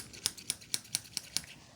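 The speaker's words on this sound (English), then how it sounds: "I believe it's a scissors." Scissors snip close beside the ear during a hearing test, six crisp separate cuts spaced evenly about a quarter second apart, quiet and intimate with no talking.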